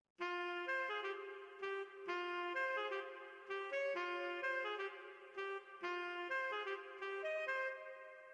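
A saxophone sample plays in LMMS for a Melbourne bounce track. It repeats short, clean melodic phrases of sustained tones, with clear gaps between the phrases and no voices.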